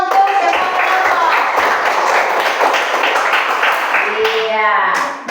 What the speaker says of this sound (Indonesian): tepuk tangan semua untuk semua kelompok